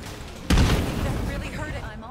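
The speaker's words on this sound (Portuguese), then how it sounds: "essa explosão do zumbi destruiu o núcleo" An exploding zombie in the survival video game State of Decay 2 goes off as a single sudden booming blast, loud and close, its rumble slowly fading afterward.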